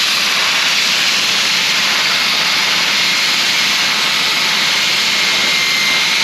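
Compressed air blasts fiberglass hairs and debris off a spinning disc in a loud, steady, unbroken rush of hissing air, close up and alone for the whole stretch.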